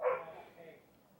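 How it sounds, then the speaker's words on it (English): A dog barking outside gives one brief, faint, muffled bark that fades quickly, heard from a distance. "My dog's barking outside."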